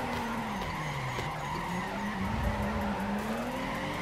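A drifting car in the PC game Torque Drift, during a Formula Drift challenge, holds a continuous engine drone with a wavering pitch, layered with steady, loud tire skidding and squeal throughout.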